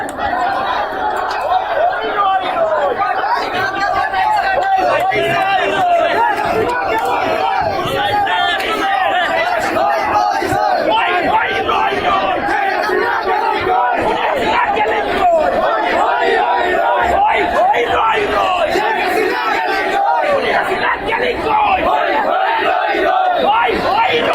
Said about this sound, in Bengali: এখানে কী ধরনের স্লোগান চলছে